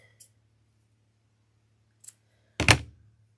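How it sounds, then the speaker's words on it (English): A pair of scissors snips a small V notch into a Christmas wreath decoration, giving one sharp, close crunch after a couple of faint earlier clicks. "Let's cut that little V."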